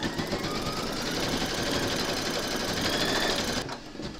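An embroidery machine stitches the second round of a large skeleton applique in a hoop, tacking the pieces down over batting. A steady close whirring hum with rapid needle chatter runs unbroken, then cuts off just before the end.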